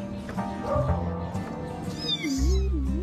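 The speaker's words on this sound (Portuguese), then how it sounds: "Na clínica de esterilização chegam gatos de todos os cantos da cidade." Cats at a sterilization clinic meow over a steady background hum of the room, with a few short calls followed by a longer, rising and falling meow near the end.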